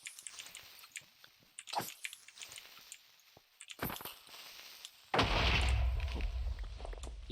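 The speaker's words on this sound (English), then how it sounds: "He blew up, but I had my shield." Minecraft game sounds with scattered clicks and thuds, then a loud, sustained rumbling creeper explosion against a shield that fills the last two seconds.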